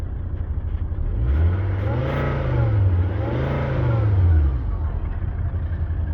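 A Volvo S60 D5 automatic's diesel engine, checked for smoking, revs up and down twice in smooth swells, close and loud over a steady idle.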